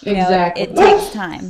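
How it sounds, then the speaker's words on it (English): An agitated dog barks and yips close by, mixed in under a person talking. "That's my dog, she's getting mad."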